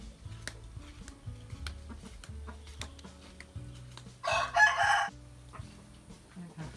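A rooster crows at a backyard chicken coop built from bamboo, one loud call bursting out midway over a steady bed of lower clucking and rustling farmyard noise.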